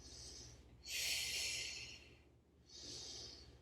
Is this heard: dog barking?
no